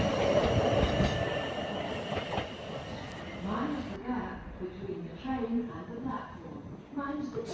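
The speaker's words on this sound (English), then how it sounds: "South Western Railways 158 in its new livery." A South Western Railway class 158 train in new livery runs at Eastleigh. A loud rumble of rolling wheels and engine noise builds and shifts, with voices heard in the background.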